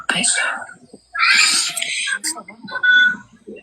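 A house cat meows several times in short, varied bursts, close and fairly loud, with quiet sounds between the calls.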